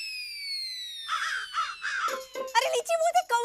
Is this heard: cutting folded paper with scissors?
no